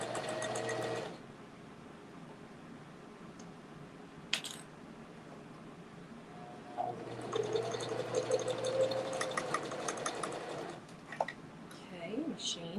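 A sewing machine stitching fabric for a custom-size hanging basket runs in two stretches, a brief whir at the start and a longer steady buzzing run later, close-up with handling noises in between.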